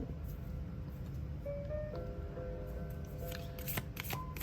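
Playing cards shuffled for a tarot-style card reading, a soft close riffling and flicking of cards over a quiet background, with a few faint tonal sounds drifting underneath.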